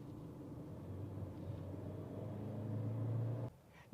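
A Maxus D60's engine rumbles and climbs in pitch as it accelerates hard, its tone rising steadily before the transmission downshifts and the drone drops off abruptly near the end, heard from inside the cabin.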